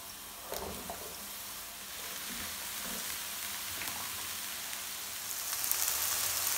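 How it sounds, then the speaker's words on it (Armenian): Diced pieces fry in a little olive oil, a faint, steady crackling sizzle with a few soft clicks and stirring taps, growing slightly brighter near the end. "խորանարդիկների կտրատեցի և մի քիչ ձիթայուղով այսպես տապակվում է"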